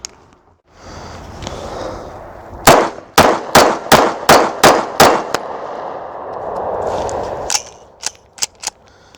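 Walther PPQ SC sub-compact pistol fired in a quick string of about seven sharp, loud shots, then a pause with handling noise and three more rapid shots near the end.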